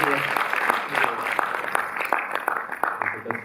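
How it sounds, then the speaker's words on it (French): An audience at a film presentation in the Arlequin cinema in Paris applauds with a short burst of scattered, fairly close claps that thin out toward the end. "je vous remercie de l'applaudir"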